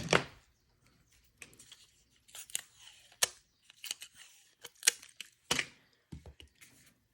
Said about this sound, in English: I'm just going to cut a little bit and just use Scotch tape for the back